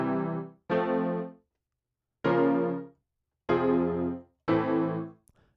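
Major and minor chords played back from a Cubase chord track, five sustained keyboard-like chords separated by short gaps of silence, clean and close.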